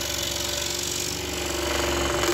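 A scroll saw rattles steadily while cutting a workpiece that is pushed and pulled through the blade, producing a continuous buzzing chatter at close range with no talk.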